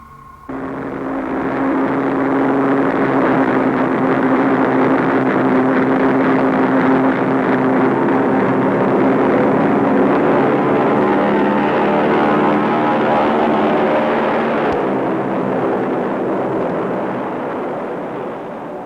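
A burning, failing airliner engine as the plane loses altitude at 9,000 feet in a film scene, heard as a loud, steady roar with a low tonal drone that holds for many seconds and then slowly tapers off.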